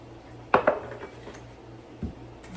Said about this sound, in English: I'm going to, as they say, heavily grease the ramekins